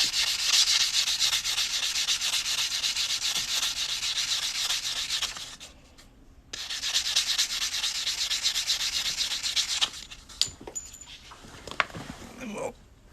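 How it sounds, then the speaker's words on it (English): Close, rapid back-and-forth sanding scrapes at the cut edge of a corn ring, steady for several seconds, a brief pause, then more rubbing before tapering into scattered handling clicks. "Sand this cut edge just a little bit."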